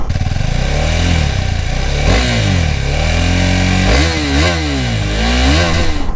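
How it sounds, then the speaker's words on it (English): A motorcycle's exhaust note rises and falls as the rider revs through the throttle, a loud, close engine drone with repeated pitch sweeps and a buzzy, slightly rough tone. "If there is something which isn't very impressive about the bike, it is the exhaust note."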